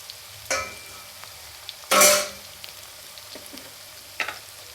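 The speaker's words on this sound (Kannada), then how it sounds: "ಈರುಳ್ಳಿ ಫ್ರೈ ಆಗಬೇಕು ಎಣ್ಣೆಯಲ್ಲಿ" Chopped onions frying in hot oil, a soft steady sizzle broken by a few clatters and one loud scraping burst near the middle, heard close with no one talking.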